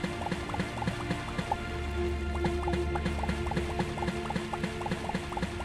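Steady liquid bubbling and dripping as water is cleared away in Starbound, a continuous sloshing bed with rapid, regular droplet ticks throughout, moderately quiet.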